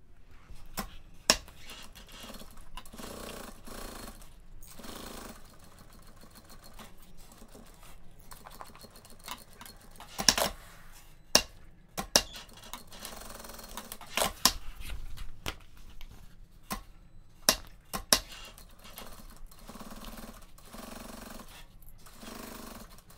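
A sewing machine stitches a fabric toiletry bag with an appliqué, running in short, uneven bursts of rapid mechanical clatter separated by pauses, close and moderately quiet, with no talking.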